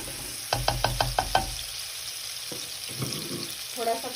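Garlic paste frying in a pan over high flame, a bright steady sizzle with a rapid run of six spoon knocks against the pan early on, then scattered stirring clatter.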